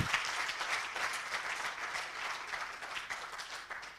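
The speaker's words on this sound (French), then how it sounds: "Alors je leur envoie un gros bisou sur vos applaudissements." Sustained, dense applause from an audience at an awards ceremony in Côte d'Ivoire, steady and fairly distant, continuing evenly for the whole stretch without talk over it.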